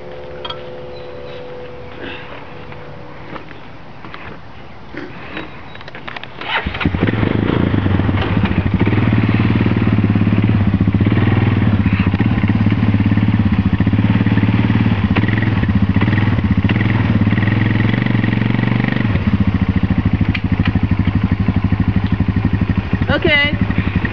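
Honda Recon 250 four-wheeler pushing against a tree: a low engine idles at first, then revs hard into a loud sustained drone that holds steady for most of the clip with some clattering.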